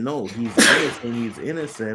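A single sharp sneeze bursts out between stretches of close conversational speech.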